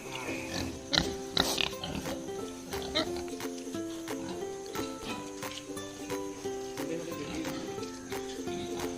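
Pigs grunt and squeal on a pig farm in Uttarakhand, India, a steady chorus of animal noise with clicking and clattering and occasional voices.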